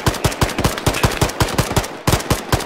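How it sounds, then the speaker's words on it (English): Machine gun fire in Arma 3 combat: a steady run of sharp, loud bursts roughly every quarter second, with a brief pause before the firing resumes, no talking over it. "It's just that one machine gunner."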